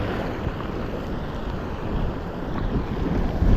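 Wind buffets the microphone in a steady, broadband rush on open water aboard a fishing boat in Arizona, with no talking.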